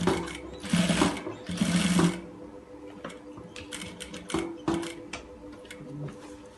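A sewing machine stitches the cuff of a gents shirt, a rapid mechanical whirr in two short bursts, followed by steady ticking and clicking of the mechanism close by.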